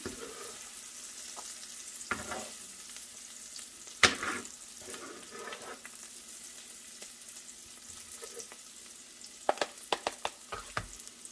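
Onions caramelize in a pan with a steady soft sizzle, broken by scattered utensil clicks and scrapes that cluster near the end, close and with no voices.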